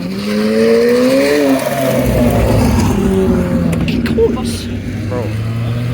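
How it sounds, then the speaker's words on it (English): At a car meet, a car engine revs hard over a continuous loud rumble, its pitch rising and falling through several throttle blips, while people talk and shout close by. "Oh, I hear revving back there"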